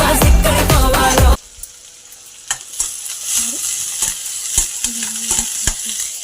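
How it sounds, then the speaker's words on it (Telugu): Potatoes fry in a pan with turmeric and salt, a steady close sizzle with stirring scrapes and soft clinks, after a brief burst of music at the start. "ఇప్పుడు అవి వేగుతున్నాయి"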